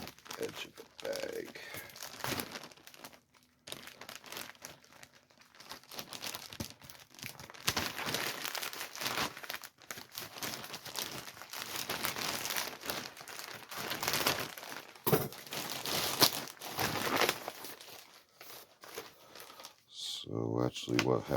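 Crinkling plastic and snipping as a plastic bag is cut open with scissors, with rustling and tearing sounds continuing throughout; a voice talks at times.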